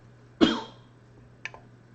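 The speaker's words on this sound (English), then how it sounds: "didn't mean to cough into the mic there" A single sharp cough lands close into a microphone during a live stream, followed by a brief fainter throat sound, against a quiet hum.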